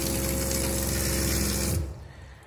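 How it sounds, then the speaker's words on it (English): Pressure-activated water pump in an enclosed trailer hums steadily with a low motor drone and a watery whir, then cuts off abruptly near the end, leaving quieter running water. "So the water pump is pressure activated, so it turns off as I open the tap."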